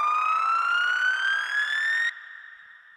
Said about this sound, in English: Here we have some up filters